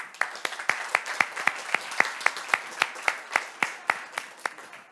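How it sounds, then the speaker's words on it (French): An audience at the MTL Tech Awards in Montreal claps for a list of finalists: crisp, evenly spaced claps in a steady rhythm, roughly four per second, close and distinct rather than a blended roar. "On les applaudit tous."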